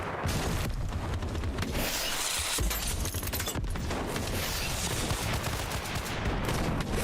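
Video game gunfire in bursts of rapid shots and booms over a busy, noisy game soundscape, loud and fairly dense, with no speech.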